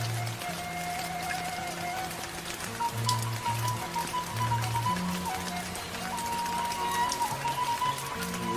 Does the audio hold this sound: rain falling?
yes